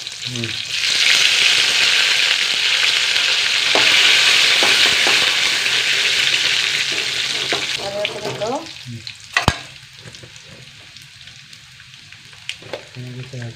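Curry leaves fry in hot oil with a loud, close sizzle and stirring scrapes, the hiss fading after several seconds into quieter frying with a sharp utensil knock.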